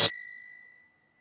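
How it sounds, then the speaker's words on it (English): A single bright notification bell ding, struck once sharply and left to ring out with a clean, slowly fading tone. "hit that notification bell"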